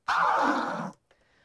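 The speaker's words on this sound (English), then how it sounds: "One of the very popular sounds used by all hip-hop DJs and battle DJs is called the tear" A single rough, grinding tear scratch on a DJ turntable sweeps for under a second, cut off abruptly, then a faint short tail follows in near silence.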